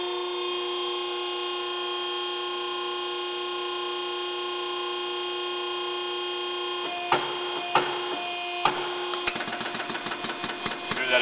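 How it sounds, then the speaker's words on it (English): An air booster pump on an Extrude Hone Profile 150 abrasive flow deburring machine runs with a steady whining hum, then kicks in with sharp clacks that become rapid, regular pulsing near the end. "Hear that air booster pump kick in?"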